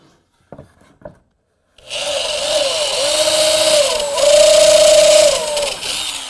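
A power drill grinds steadily into a wooden plant stand for about four seconds, drilling and countersinking a hole, loud and close, with the pitch shifting as it bites; a few soft knocks come before it starts.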